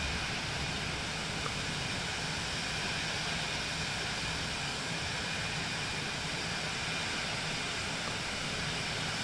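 Jet engines roar steadily under thrust reversers in Microsoft Flight Simulator 2024, a loud continuous broadband rush with no letup and no talking.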